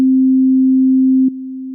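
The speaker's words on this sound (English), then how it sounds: "The sound we're using this time is a synth patch I created that just changes in volume" A synth patch plays a steady, pure sustained tone that suddenly drops to a lower volume partway through.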